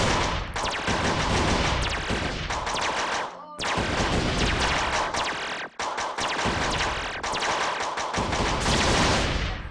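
Video game weapon firing everything at once in an Xbox Live indie game: a dense, loud, continuous barrage of rapid gunfire and blasts, broken by a few brief gaps.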